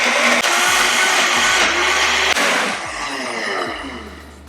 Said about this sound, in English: I'm gonna get this going in my Vitamix first. I'm gonna blend it up